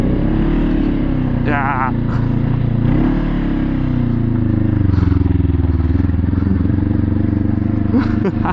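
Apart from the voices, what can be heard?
big bike motorcycle with aftermarket exhaust pipe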